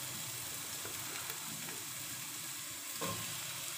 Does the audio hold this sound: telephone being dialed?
no